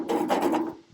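A loose radiator shutter control on a 1943 John Deere B tractor is spun freely once by hand, a brief dry rasping rub lasting under a second, close and moderately loud with no talk.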